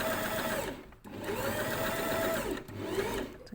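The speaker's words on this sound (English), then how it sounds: "So stitch forward, do your reverse stitch all the way to the back, and then you're going to sew a foot's width." Sewing machine running steadily as it stitches a fabric pocket, a continuous motor whir with brief pauses around one and two-and-a-half seconds, close and fairly loud with no talking.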